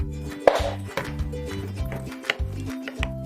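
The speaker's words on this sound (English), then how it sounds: "Our task is to gently chop it." Knife gently chopping milk chocolate on a board, a steady series of close, moderately loud chopping strikes with short pauses between them and no talk.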